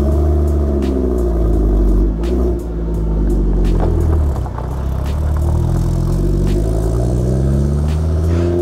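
Ford Focus Mark 2 RS with its turbocharged engine and upgraded intercooler, a loud, close, deep engine rumble that rises and falls in pitch as it revs and pulls, with no voices over it.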